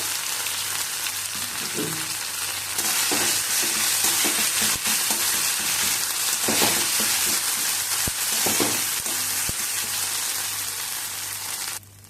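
Whole spices, ginger paste, pea lentil paste and salt fry in hot oil in a pan for dum aloo, giving a loud, continuous sizzle with occasional scrapes and knocks from stirring until the frying noise cuts off abruptly at the very end.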